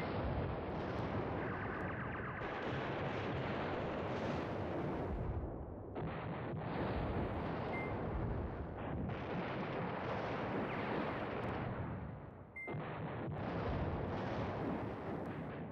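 Artillery fire in the wargame Command Ops 2 rumbles as a dense run of heavy booming blasts, overlapping and continuous, with brief gaps between salvos.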